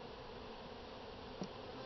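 Honey bees at a hive being split, a dense, steady buzzing swarm sound filling the whole stretch, with one brief louder knock near the end.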